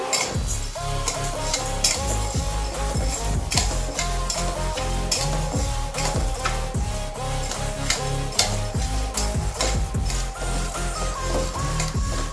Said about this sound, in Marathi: या कढईमध्ये आपल्याला भगर आणि साबुदाणे घालून घ्यायचे आहेत आणि लो फ्लेमवर आपल्याला दोन ते तीन मिनटं यांना भाजून घ्यायचं आहे